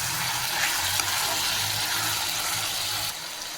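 Drumstick chicken curry masala with ginger-garlic paste, crushed pepper and green chilies is stirred in a pan, a dense steady sizzle close by with a low hum that drops off near the end.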